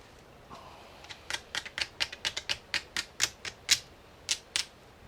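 Quick cutting strokes across a river cane arrow shaft produce a run of about fifteen sharp, crisp scraping clicks in an uneven rhythm, close and clear with no talk.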